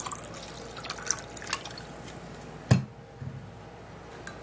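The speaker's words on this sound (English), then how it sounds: "and then add up more water" Water drips and trickles softly into a drink with lemon, with one sharper splash partway through and a quiet room around it.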